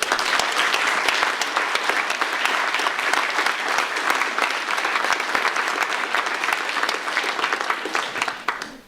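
Dense, sustained applause from an audience at a school certificate of achievement ceremony, many hands clapping steadily and loudly throughout with no break.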